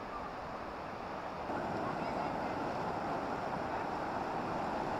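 Sea surf washing onto a white sand beach in Anjarle, Dapoli, a steady broad wash of waves and wind that swells louder partway through, with no voices.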